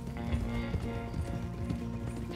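Horse hooves clip-clopping in the Red Dead Redemption 2 video game, a steady rhythmic patter of steps heard close and fairly loud over a dense game soundscape, with a faint snort or whinny.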